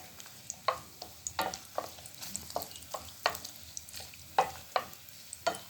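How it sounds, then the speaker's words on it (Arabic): Meat sears in hot oil with cinnamon and bay leaf for pot-style kebab, a steady close sizzle broken by sharp scraping clicks of a spoon stirring against the pan every second or so, with no talking. "هنزل دلوقتي معايا بالتوابل عشان تاخد تحميصه كده، بالقرفه واللورا، عشان تاخد تحميصه كده مع الزيت ومع الليا"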